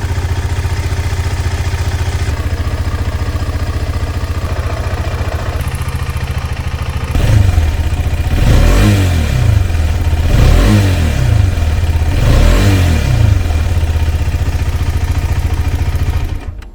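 A KTM 250 Adventure BS6 motorcycle engine idles steadily, then is revved several times in a row with rising and falling surges, heard close and alone.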